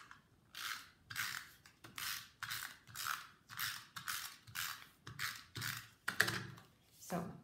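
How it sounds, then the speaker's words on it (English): A snail adhesive tape runner is rolled repeatedly across a card layer, making a close, rhythmic series of ratcheting, whirring strokes with short pauses between them. "I know I have snail adhesive here somewhere."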